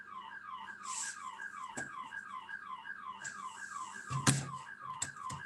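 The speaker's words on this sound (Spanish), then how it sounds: "tengo acá una alarma que está sonando que no me deja escuchar bien" A nearby electronic alarm sounds continuously as a fast repeating warbling tone pattern, fairly faint and steady, with a few sharp clicks and knocks mixed in and no talking.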